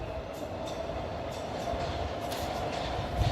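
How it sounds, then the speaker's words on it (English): A train passing near Shepherd's Bush Market in London, a continuous low rumble of rolling stock with faint wheel clatter and light metallic ticks, steady and moderately close. "There's a train."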